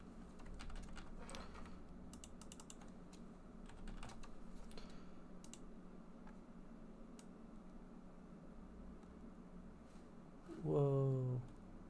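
Typing on a computer keyboard, scattered quick clicks and taps in irregular clusters, faint against a low steady hum, with a short tonal sound near the end.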